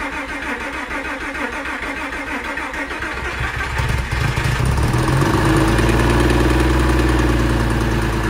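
A Porsche engine fires up after repair work: starter cranking for about four seconds, then the engine catches and settles into a loud, steady idle, close by with no talk.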